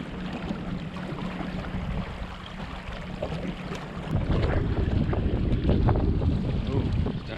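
Wind gust on Redfish Lake while sailing a Hobie Mirage Tandem Island trimaran, heard as a steady roar of wind buffeting the microphone that swells noticeably louder halfway through, with water and hull noise underneath.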